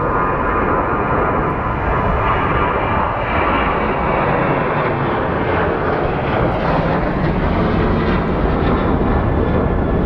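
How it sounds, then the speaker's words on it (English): A Delta Connection jet operated by SkyWest departs Phoenix Sky Harbor airport, its engines producing a loud, steady roar with a broad rumble that holds throughout, with no talk. "our Delta Connect flight, SkyWest 3548, headed to Los Angeles. Getting ready to depart"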